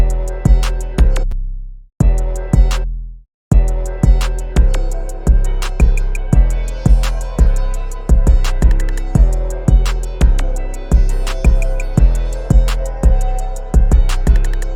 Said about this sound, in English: this is what the final beat sounds like.